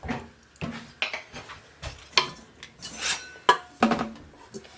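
Wooden butter paddles work and slap a chunk of homemade butter, giving a series of close, distinct knocks and scraping rubs in an uneven rhythm with no talking.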